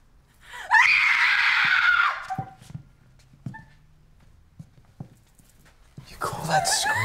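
Screaming from a horror film scene: a loud, sustained shriek of about a second and a half, followed by quieter scattered sounds and breaths, then a second burst of shouting near the end.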